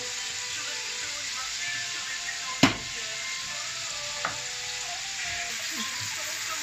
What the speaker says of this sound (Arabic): كما كتشوفوا معايا الدجاج هو تشحر